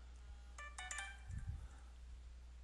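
A mobile phone ringtone plays a short electronic melody of several bright tones, close and moderately loud, with a brief low thump partway through and no talking.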